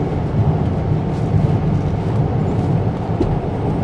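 Diesel BMW X5 xDrive35d cruising at a steady highway speed with cruise control set, a continuous low broadband road and engine rumble filling the cabin without any talk.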